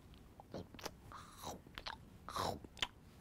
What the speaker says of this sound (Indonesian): Si sapi lagi makan rumput.